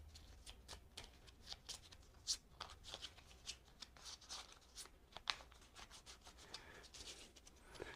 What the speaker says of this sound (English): it's time to reshuffle the deck